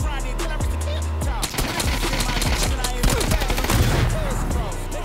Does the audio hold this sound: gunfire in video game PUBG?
yes